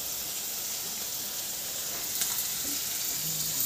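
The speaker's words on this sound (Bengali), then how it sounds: "ভাজা হয়ে যাবে কাজুটাও।" Cashews fry in hot oil in a pan, an even, close sizzling hiss that swells slightly near the end, with a faint clink or two and no speech.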